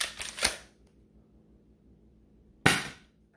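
An XYL M870 shell-ejecting toy shotgun blaster with an upgraded spring fires twice: two sharp, close snaps about two seconds apart, each with a brief clatter, and quiet between them.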